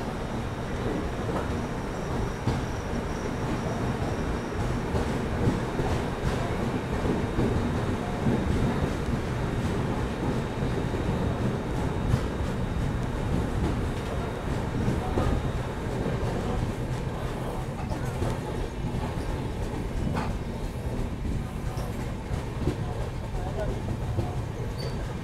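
The Rajasthan Humsafar Express (22985) rolls out of Bhilwara station, a continuous loud rumble of wheels and carriages heard close from onboard with rattles and occasional squeals, while someone talks over it.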